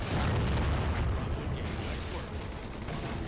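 A fuel rod cannon blast booms in Halo 4, a loud, rumbling explosion that fills the moment with heavy low-end roar and slowly settles.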